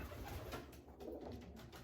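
Soft cooing of a pigeon hen, low and murmuring, repeating under a fairly noisy, rustling background.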